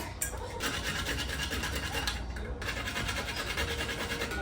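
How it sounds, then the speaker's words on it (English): Whole nutmeg grated by hand for apple butter, giving a quiet continuous rapid scraping rasp that runs steadily for a few seconds with no talk. "I'm gonna ground some whole nutmeg."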